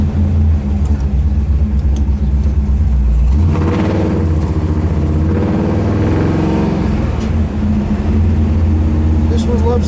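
A blue 1963 Chevrolet Impala hardtop's 409 engine idles with a loud, deep rumble that swells into a rev partway through, heard close up while people talk over it.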